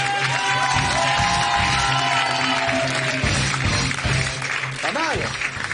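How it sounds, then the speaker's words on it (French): A French television studio audience applauds and cheers loudly and continuously, with whoops rising above the crowd and voices heard over it. "Vous pouvez applaudir très fort"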